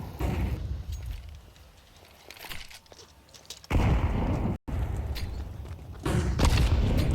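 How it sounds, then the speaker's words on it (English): Grenades bursting in a Counter-Strike match on the Ancient map, with several dull booms and thumps at mid distance that swell into a dense, loud rumble with a brief cutout partway through. "it's a lot of nades coming over Dia's head right now, but he's found himself a bunker, and he is safe from the bombardment"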